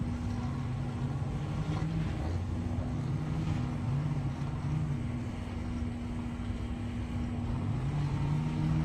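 A Corvette ZR1's engine rumbles and revs at an airstrip race, a steady low drone with rising and falling pitch swells heard from a distance over continuous background noise.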